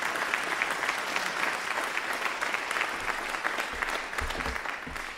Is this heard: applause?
yes